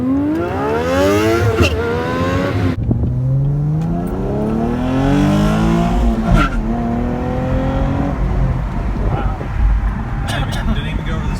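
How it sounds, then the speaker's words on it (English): A 2018 Chevrolet Camaro V6 1LE revving hard through its gears, with the engine note rising and falling repeatedly and an abrupt cut between pulls, while people talk inside the car. "I like how the exhaust completely flares."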